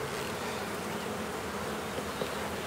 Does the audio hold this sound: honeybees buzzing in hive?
yes